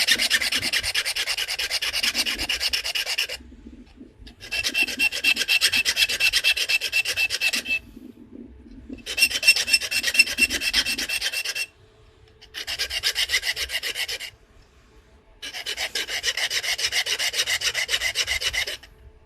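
A knapping tool scrapes and grinds notches into a black grey glass point. The harsh rasping comes in five long, steady bouts with short quiet gaps between them, close up.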